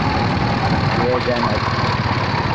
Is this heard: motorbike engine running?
yes